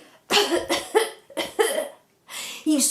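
A voice imitates several coughs in quick bursts, up close, separated by short pauses.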